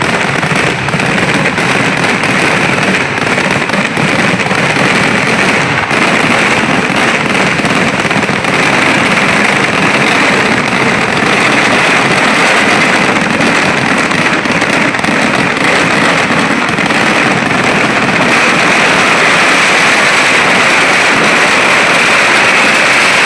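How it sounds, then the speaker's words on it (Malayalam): Fireworks going off during a program-day celebration in Kerala: dense, continuous crackling and popping bursts, loud and close, sustained without a break throughout. "വെടിക്കെട്ട്"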